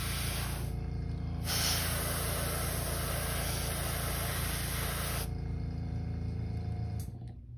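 Steady close hiss of a spray gun or airbrush painting a custom crankbait fishing lure, one continuous burst lasting several seconds with brief pauses before it trails off.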